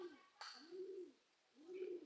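Pigeons coo softly in a loft, giving two or three low rounded coos with a faint chirp between them, quiet and fairly close.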